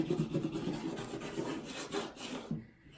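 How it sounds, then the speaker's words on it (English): Fingernails rub and scrape across the black part of adhesive craft vinyl during a string art project, a close, steady dry rasping that carries on for about two and a half seconds before cutting off. "Rub down the black part of the vinyl really well. And scrape it with your fingernails if you need to."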